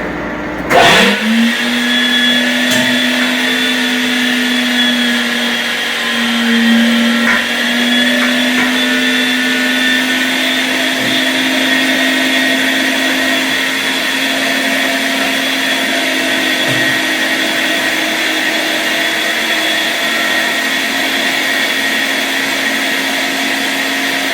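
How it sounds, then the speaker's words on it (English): A 500W electric meat grinder starts up and runs steadily, grinding bear meat and onions with a loud, even motor whine and hum and a few faint knocks, no one talking. "Throw some onions down there, it shoots the rest of the meat out there and dices your onions for you."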